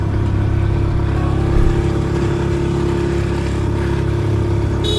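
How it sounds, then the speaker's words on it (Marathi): A car engine labours uphill on the road to Matheran, a steady loud drone with a strong low hum that holds throughout, with a slight surge partway through. "गाडी जरा चढत नाही"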